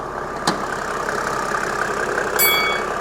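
A diesel engine with a knock idles at a steady mid-level rumble, with a brief sharp tap near the start and a short metallic clatter later.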